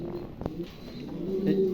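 A female Mundian pigeon coos in low, soft throaty notes, close by, while someone talks over it.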